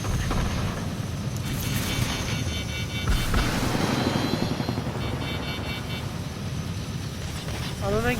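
A helicopter flying in the video game Fortnite, its rotor thrumming steadily and loudly throughout, with brief gunfire-like bursts and excited players talking over it.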